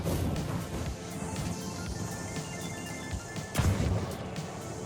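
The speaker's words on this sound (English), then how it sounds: "I'm gonna throw the pyro grenade in 3, 2," A pyro grenade thrown in the video game The Finals bursts with a sharp crash in the middle of dense, loud game noise, with other impacts and clatter around it.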